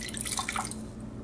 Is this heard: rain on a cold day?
no